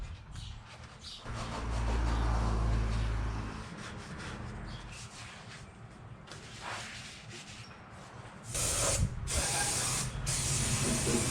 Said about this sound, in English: I got some brake cleaner I think I'm gonna spray it down with